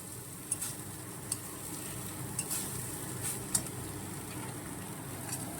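Rice stirred into ghee with ginger sizzles quietly in a home pan, a soft continuous frying hiss broken by a few sharp clicks of the spoon against the pan.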